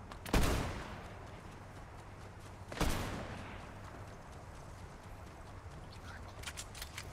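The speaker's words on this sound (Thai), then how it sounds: "เสียงยิงเมื่อกี้มาจากข้างบนหิมะป่ะ" Gunfire in a Fortnite Zero Build duo match comes as two loud shots or short bursts a couple of seconds apart, over steady game ambience and faint distant pops.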